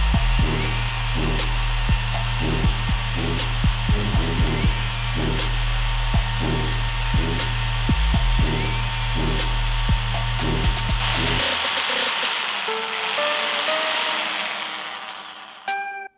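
A handheld electric drill twists resistance wire into a fused clapton vape coil, its steady motor whine humming close and continuous with rhythmic pulsing for about eleven seconds before winding down into fainter whirring.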